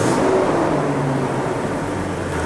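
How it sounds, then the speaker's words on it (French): A car engine held under steady throttle while a diagnostic scan tool is plugged in gives a continuous, loud, even drone at close range, rising only slightly, with no talking. "si je mets un peu de gaz"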